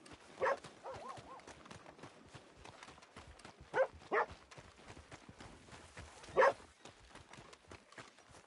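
Hooves of a horse in a video game clop in a few scattered, distinct knocks over a quiet ambient background, sparse and irregular rather than a steady gait.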